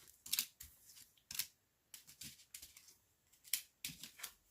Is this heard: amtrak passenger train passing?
no